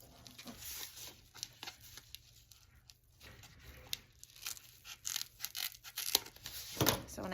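Scissors cut through a Velcro strip for a homemade dog sweater, giving irregular close crisp snips and rasping tears, quiet at first and growing louder and busier toward the end.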